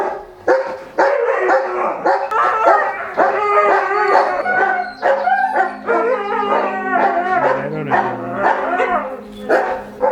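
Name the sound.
dogs barking and howling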